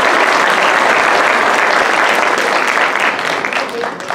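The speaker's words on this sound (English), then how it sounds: "Please give them a round of applause." An audience at a mayoral forum held in a cinema gives a sustained round of applause, loud and dense, easing slightly toward the end.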